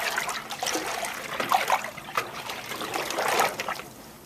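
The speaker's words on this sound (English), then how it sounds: "You want to swish your water, get the product mixed in with the water." Water being swished around by hand in a three-bin sink to mix in a cleaning product, giving a steady close sloshing and trickling with small splashes.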